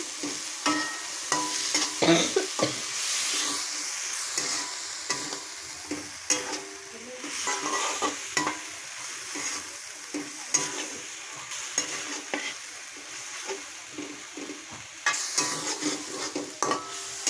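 Onion, tomato and spice paste stirred in a pan, a steady sizzle of frying with scraping, clinking strokes throughout, close and fairly loud, with no talking.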